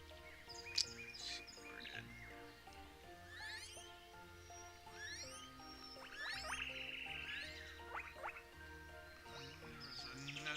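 Sparrow chirps in the nature simulation game Equilinox, a scatter of quick, faint tweets and short trills over a quiet, steady musical background.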